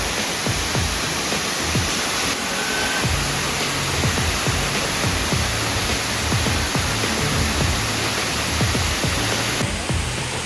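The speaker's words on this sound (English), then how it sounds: "Behind me is a waterfall." Waterfall near Cairns, a loud, continuous rush of falling water heard as dense, steady noise throughout with no pauses.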